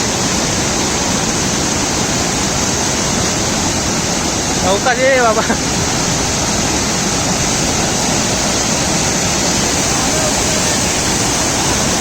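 Water pours over a brimming dam in heavy rain, a loud, steady broadband roar filling all twelve seconds, with a brief burst of speech breaking in midway.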